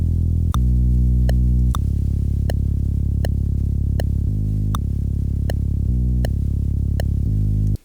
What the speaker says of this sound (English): Underneath I've added the smooth sustained bass